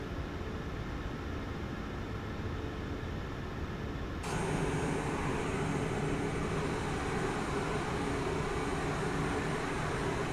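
A simulated iFly 737 Max 8 sits on the ground in Microsoft Flight Simulator 2024 with its engines running as it starts to taxi. A steady broadband roar swells abruptly partway through, then holds loud and even.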